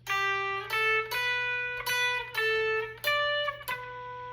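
An electric guitar plays a short solo riff of sustained notes, several picked in sequence with clear attacks, alone with a faint hum underneath.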